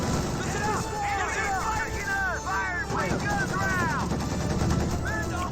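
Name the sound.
MG34 and half-track machine gun fire, Company of Heroes 2 video game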